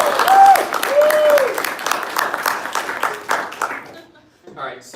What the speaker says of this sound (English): Give her applause, guys.